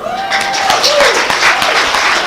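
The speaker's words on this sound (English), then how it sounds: "Hey, others, stop clapping." Studio audience clapping on a Nigerian call-in program, a burst of applause with a few voices calling out over it, fairly loud and close, running the whole moment.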